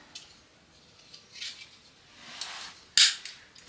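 Flooring material cut to fit in an attic bathroom makeover, a few quiet snips and scrapes followed by one sharp, louder cutting snap near the end, close by with no talk.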